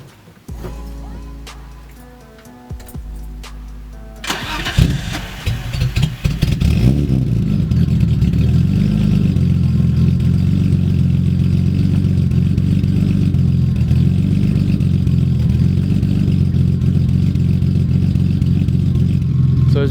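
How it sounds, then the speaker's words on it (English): A BMW E30 that has sat unused for a while cranks briefly, then fires up with a loud, close rumble and settles into a steady, throaty idle. "let's go ahead and start the car up since it hasn't been started in a while"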